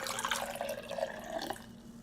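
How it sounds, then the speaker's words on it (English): Hot water pours in a soft, gurgling trickle into a glass for homemade lemonade, faint and close, lasting about a second and a half before it tapers off. "Then it says to put in the hot water."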